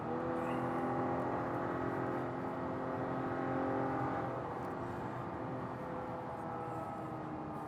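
From inside a 2021 Acura TLX Advance with SH-AWD driving on a canyon road, a steady engine and road hum holds at moderate volume, easing slightly toward the end, with no voices.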